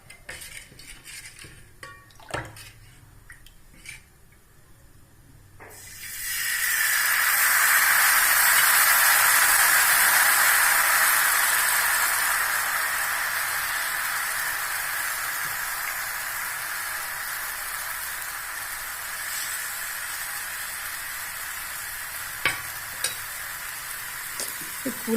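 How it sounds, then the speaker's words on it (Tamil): Sour dosa batter poured onto a well-heated griddle bursts into a loud, steady sizzle after a few seconds of quiet kitchen clatter, then slowly eases while light clinks sound near the end. "நம்ம ஊற்றிடலாம் தோசையை."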